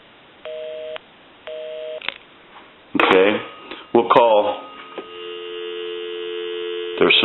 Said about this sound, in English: Now we can call one other number. Give you some dial tone.